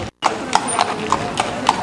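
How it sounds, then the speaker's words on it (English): A live horse's hooves clip-clopping on a street in Bruges, Belgium, a steady walking rhythm of sharp, close hoof strikes about every quarter second, with a brief dropout near the start. "And there is the live horse"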